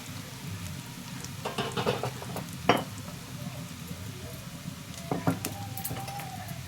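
Fried potatoes go into a pan of browned onion and garlic, giving a steady low sizzle with scattered scrapes and clinks of a spoon against the pan, one sharper knock midway, close and fairly quiet.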